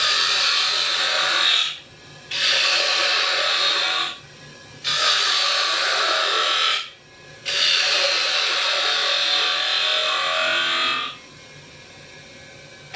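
A Les Thorne Signature half-inch (13mm) spindle gouge cuts a spinning wooden spindle on a woodturning lathe in four sustained passes, a bright close shearing hiss broken by short pauses, with a low motor hum beneath and no talk.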